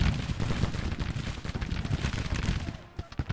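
Massed musket and rifle volleys crackle from a Civil War battle in the strategy game Grand Tactician, dense and continuous with scattered louder shots near the end.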